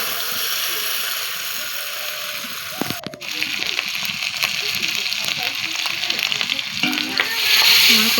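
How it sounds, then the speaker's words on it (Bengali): Chicken frying in a pan with chili powder, a continuous loud sizzle with scraping stir strokes, briefly interrupted and then building again toward the end. "এখন ভালো করে নেড়ে চেড়ে নিতে হবে, লঙ্কার গুঁড়োটা যেন মিক্স হয়ে যায়।"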